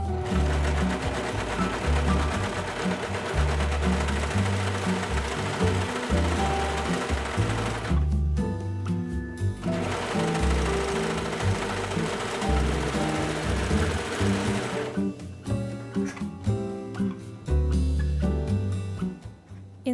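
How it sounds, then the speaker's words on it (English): A serger overlocking the edges of quilted bag fabric, running in loud, sustained whirring stretches broken by brief pauses and stop-start bursts near the end. "I used my serger to finish the edges around each side."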